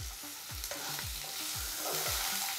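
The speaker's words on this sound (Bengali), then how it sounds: "আলুটা 1 মিনিট ভেজে নেব।" Potatoes fry in hot oil for samosa filling after ginger-garlic paste, onion and chilli, a continuous close sizzle broken by stirring scrapes, with a faint rhythmic beat beneath.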